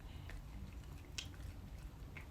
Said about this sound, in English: The little lump of rice is like chomping around in his mouth.